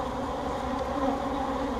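A constant close-up hum of numerous honey bees swirling around an open hive being inspected, loud and unbroken throughout.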